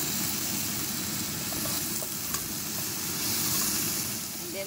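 Garlic and chopped onion frying in a hot pot for a tofu stew, a steady, dense sizzle and crackle running close and loud the whole time with no pauses.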